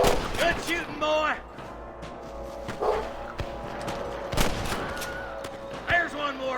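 Sporadic gunshots ring out in a Red Dead Redemption shootout, a few sharp cracks spaced several seconds apart over game ambience, with a voice speaking between them.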